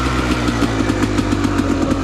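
A 1998 Kawasaki KDX 220 two-stroke dirt bike engine runs loud and close at a steady, buzzing idle, with a rapid even pulse and no talk over it.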